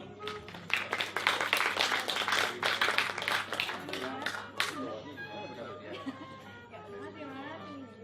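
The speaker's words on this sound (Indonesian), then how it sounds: "Ya, tepuk tangan dong untuk Mas Fajar" Audience applause at a student panel discussion event, a dense burst of clapping for several seconds that fades into scattered claps and murmuring chatter with voices.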